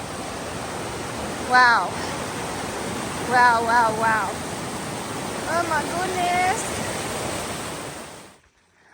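Steady broadband rush of a flowing mountain stream along the Appalachian Trail near Curly Maple Gap Shelter, constant and close, with a woman's brief exclamations breaking in over the water noise.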